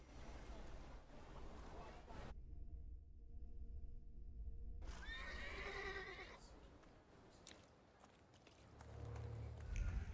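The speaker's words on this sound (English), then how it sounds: "I meant to take the horse out for a ride" A horse being taken out for a ride in The Thaumaturge video game whinnies once partway through, a clear rising and falling neigh set against dense ambient game sound.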